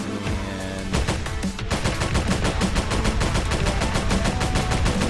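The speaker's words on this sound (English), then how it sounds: "fire some shots at these guys." A tank in a video game fires rapidly, producing a dense, loud barrage of shots that runs continuously, with a brief change in the pattern early on and no talking.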